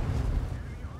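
Heavy tank cannon fire in World of Tanks, with the VK 45.02 B in a brawl: deep, rumbling booms roll through the clip, and a voice talks over them.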